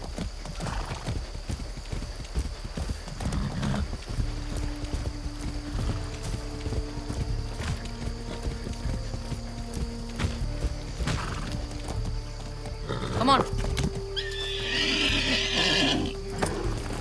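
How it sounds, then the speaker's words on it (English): A horse in the video game Far Cry 6 gallops with steady clip-clop hoofbeats under game music, then gives a loud neigh near the end. "Hey, a magic horse."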